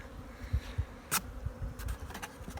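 A low, steady buzz of honey bees at a hive with pulsing swells, many bees droning close by, and a few faint clicks and rustles over it.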